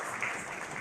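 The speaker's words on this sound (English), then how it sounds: "Round of applause." Audience applause at a stage event where officials are called up, a steady spread of clapping heard briefly with no voices over it.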